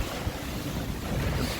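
A Seawind 1000 catamaran sails through waves: a steady broadband rush of water and surf with heavy wind buffeting on the microphone, continuous and close, with no voices.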